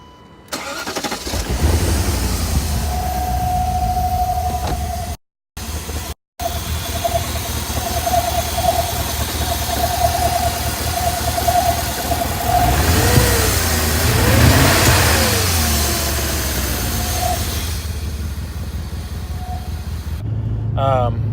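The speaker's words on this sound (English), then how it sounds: "I'm gonna start it so you can see what it's doing." A truck engine cranks and catches, then runs steadily with a couple of revs rising and falling midway, continuous and fairly loud throughout.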